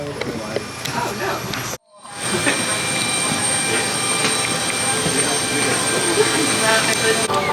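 Steady broadband roar of jet engines heard from inside an airplane cabin, continuous and fairly loud, with a brief dropout near the start before the drone resumes unbroken.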